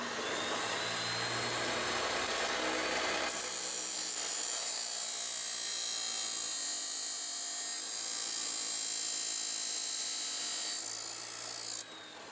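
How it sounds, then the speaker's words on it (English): A chop saw cuts a metal piece to length during a plow mount repair on a Yamaha Kodiak, a loud sustained high whine and grinding hiss that rises as the blade bites in and holds for several seconds before tapering off. "So next thing I'm going to do is put that in my chop saw here and cut it to length."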